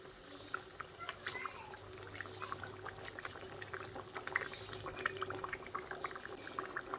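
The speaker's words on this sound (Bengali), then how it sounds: "এবার আমি যে মাছগুলো ভেজে রেখেছিলাম সেই মাছগুলো একে একের মধ্যে দিয়ে দিচ্ছি।" Fried katla fish pieces go into a simmering curry gravy, giving soft bubbling and sizzling crackles with light clinks, close and quiet throughout.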